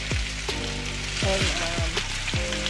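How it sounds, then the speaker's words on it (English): Carrots and potatoes fry with a steady sizzle in a pan, with several low knocking thumps, like utensils moving food around, close and continuous. "Right now I'm just frying the carrots and potatoes"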